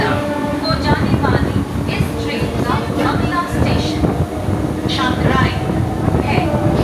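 A local train running from Howrah to Digha rumbles steadily with a loud, continuous clatter and rattle of the carriages, with recurring squeaks and some voices mixed in.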